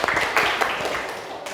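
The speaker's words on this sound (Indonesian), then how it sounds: "Tepuk tangan dulu dong." Students in a school classroom clap together in a short, dense burst of applause that fades out after about a second and a half.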